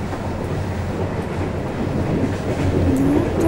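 A train passes near the suburbs of Trnava, Slovakia, with a steady, loud rumble and wheel noise that holds throughout the clip, and no talking.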